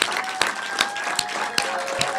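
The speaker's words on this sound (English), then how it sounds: "So give yourselves a round of applause" An audience gives a round of applause, a steady wash of clapping over about two seconds with a few sharper individual claps standing out, fairly close and without talk.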